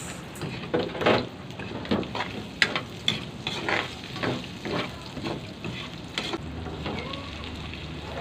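Onion fries in a pan with a busy sizzle, punctuated by irregular scraping and stirring knocks, close up and with no voices.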